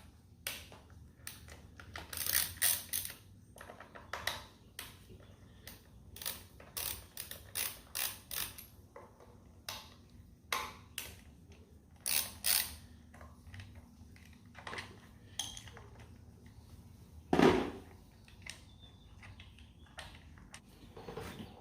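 Ratchet with a T27 bit loosening the bolts of an Arlen Ness motorcycle air cleaner, close rapid clicking in short repeated bursts separated by pauses, with one louder clank partway through and no talking.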